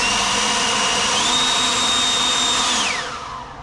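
A power blower runs at steady high speed with a whine, loud and close, then spins down near the end.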